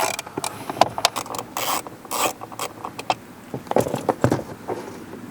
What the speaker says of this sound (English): as you remove the last screw, the blower motor is going to want to fall out